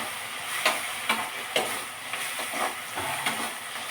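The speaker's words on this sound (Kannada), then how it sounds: "ಸೂಪರ್ ಸೂಪರ್ ಸೂಪರ್ ಆಗಿ ಬೇಯ್ತಾ ಇದೆ" Noodles cooking in a pan, a steady faint sizzle broken by regular soft scraping strokes of stirring about every half second, close by and with no talk.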